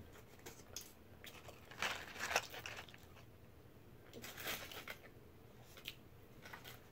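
Someone bites into and chews a crunchy Mexican crunch wrap during a mukbang, with close, quiet crunches clustered in bursts and softer chewing in between, and no talking.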